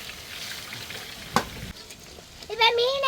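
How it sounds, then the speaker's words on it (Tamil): Fish frying in a pan over an open fire sizzles softly, with a sharp scrape of stirring partway through, then a brief high whistling tone near the end. "இப்ப மீனை கிண்ட போறோம்."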